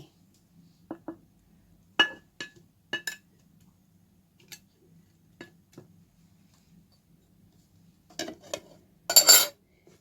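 Pineapple peel and two ripe mangoes are tipped into a container, giving sparse, sharp clinks and knocks, then a louder burst of clatter near the end in a quiet room.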